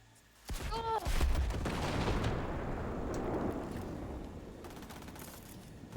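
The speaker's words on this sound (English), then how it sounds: "There we go, lots of explosions." Gunfire and explosions in the shooter game Cyberpunk 2077 burst in suddenly: a sharp blast, then a sustained roar of rapid shots and rumbling detonations that slowly trails off, loud and close, with a player's voice faintly mixed in.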